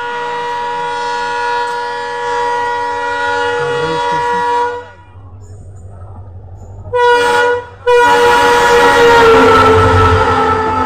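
An express train rushes past at high speed on an Indian railway near Prayagraj, a loud, steady roar with a sustained horn blast, a brief drop in noise, then a renewed surge of rumbling wheels close by.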